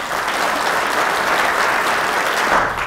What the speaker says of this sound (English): So can we have applause for our panellists?